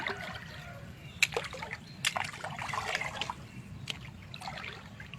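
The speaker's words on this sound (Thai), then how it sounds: "น้ำไหลครับพี่น้อง" Water trickles and dribbles nearby, with scattered splashes and drips over a soft continuous flow.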